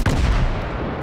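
Naval gunfire in World of Warships: one loud, deep boom that bursts out at once and then rolls off in a heavy rumbling tail.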